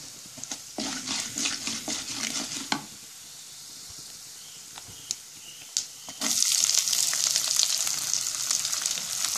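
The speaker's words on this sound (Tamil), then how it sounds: "நல்லா வறுபட்டுடுச்சு பாருங்கள்." Kara kulambu ingredients frying in a pan, a steady close sizzle with stirring scrapes, briefly quieter midway before surging louder again; no talking.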